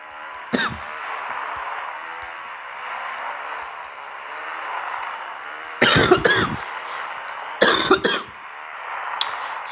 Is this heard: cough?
yes